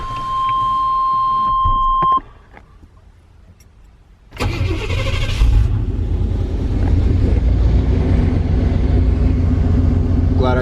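A Ford OBS pickup cold-starting at a warehouse early in the morning: the starter cranks briefly after a steady beep, then the engine catches with a loud roar and settles into a rough, steady idle close by.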